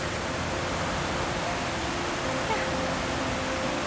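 A waterfall at Kuroguchi Shrine, heard from a small bridge below it, rushes as a constant, dense roar that fills the whole stretch without a break.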